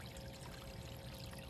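A small garden aquascape pond on a deck trickles softly and continuously, a faint, steady watery hiss with no voices.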